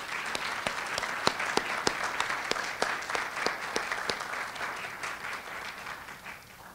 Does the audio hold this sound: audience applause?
yes